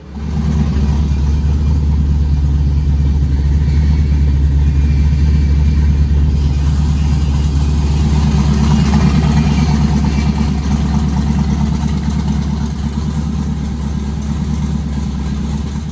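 A tuned twin-turbo LS-swapped Nissan 240SX engine runs steadily and loudly throughout, with a deep rumbling idle that rises into stronger revving in the second half.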